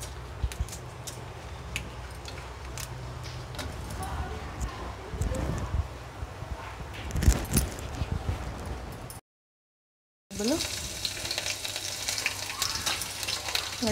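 Dried red chillies frying in hot oil for a tempering, made while cooking Andhra ulavacharu: a soft, continuous sizzle and crackle close by, running under a person talking, with a brief cut to silence partway through.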